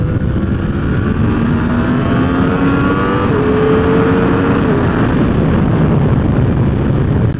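Yamaha R1 sport motorcycle engine under way on a street ride, a loud steady drone with rising and falling tones throughout, plus constant rushing wind noise and no speech.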